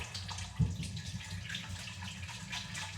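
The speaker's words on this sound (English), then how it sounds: "Always wash your hands when you're cooking." Tap water running while hands are washed during cooking, a soft steady splashing stream with a brief louder knock near the start, quiet and close throughout.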